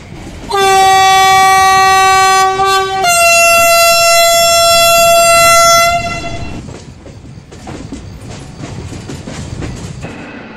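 A train in the Trainz Simulator game on an Indian Visakhapatnam route sounds a loud, sustained two-part horn blast for about five seconds, then a lower, steady rolling rumble continues as the train moves off slowly.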